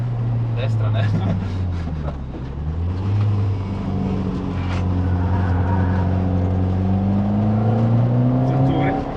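A Ford Sierra Cosworth 4x4 engine revs up and pulls through the gears while driving on the road, pitch climbing, dropping at a shift, then rising again, with people talking excitedly inside the car.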